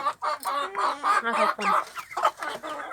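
A hen standing behind a rooster clucks in a rapid, uneven series of close, moderately loud calls, running without pause through the few seconds.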